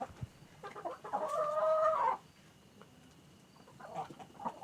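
Backyard chickens cluck close by, with one hen giving a louder drawn-out call in the middle, followed by softer scattered clucks.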